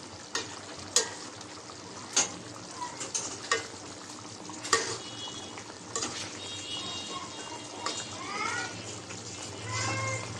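Pomfret sea fish frying in a pan with cumin powder, stirred with repeated scraping and clattering strokes over a steady sizzle, close and fairly quiet, with a few faint other noises.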